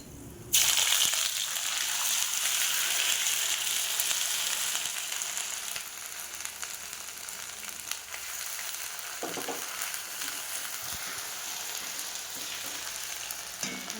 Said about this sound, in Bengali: চলো এইবার আমি দিয়ে দেব আমার এই যে বেটে রাখা আদা রসুনের আদা রসুনের পেস্ট